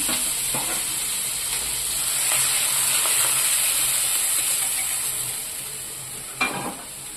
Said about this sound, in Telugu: ఇప్పుడు ఈ తాలింపు అంతా పెరుగులోకి వేసేసుకున్నాం